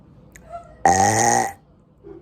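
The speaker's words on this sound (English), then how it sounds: "I literally just ended the video and I had more good burps." A single loud, close burp from a young woman, one sustained deep eructation lasting under a second in a quiet room.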